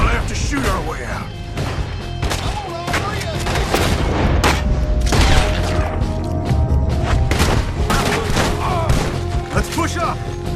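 Gunfire and booming blasts from a shootout in Red Dead Redemption 2, dense and continuous over a loud game soundscape, with voices shouting throughout.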